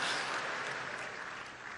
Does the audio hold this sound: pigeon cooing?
no